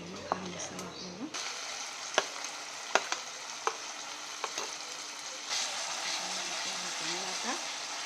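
Ground masala with cumin sizzles in oil for a mutton rassa, a moderate frying hiss with sharp spoon clicks and scrapes against the pan, quieter at the start and swelling later.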